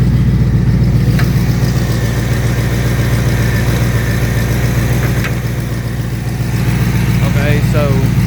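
A 1994 GMC Sonoma pickup with a V8 engine idles with a steady, loud, close rumble throughout, with only faint background sounds over it.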